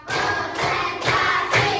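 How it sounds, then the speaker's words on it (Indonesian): Schoolchildren in a primary classroom clap in a steady counted rhythm, with evenly spaced group claps about every half second and voices chanting along. "Tepuk 1, tepuk 2, tepuk 3, tepuk 4,"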